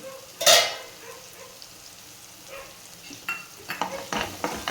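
Tomato rice with garam masala stirred in a pan, soft sizzling under a sharp scrape early on and a run of clinking, scraping stirs toward the end.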